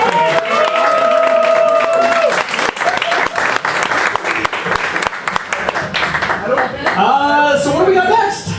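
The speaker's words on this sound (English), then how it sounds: "Let's have another round of applause." An audience at a tribute event bursts into loud, sustained applause with scattered cheers, tapering off as voices talk near the end.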